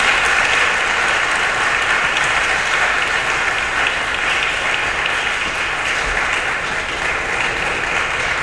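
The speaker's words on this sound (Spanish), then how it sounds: "vamos a aplaudirle otra vez a Sandra" A lecture audience at a university gives sustained applause for the speaker Sandra, a thick continuous wash of many hands clapping at a steady level throughout, close and fairly loud, with no talking over it.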